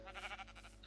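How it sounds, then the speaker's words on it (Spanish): Sheep in the video game Minecraft give a single short, wavering bleat, faint and alone. "Ovejas."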